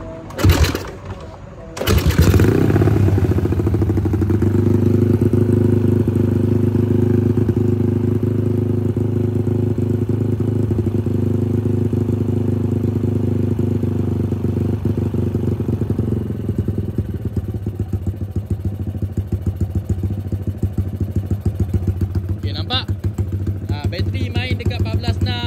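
An X1R motorcycle engine, tested during a battery and charging-coil check after its battery burst, starts after a brief cranking burst, then settles into a steady, loud, close idle that runs on alone with a faint clatter.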